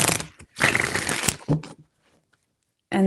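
Tarot cards being shuffled, a few quick riffling bursts close by, then near silence before a voice starts at the end.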